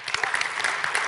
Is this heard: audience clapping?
yes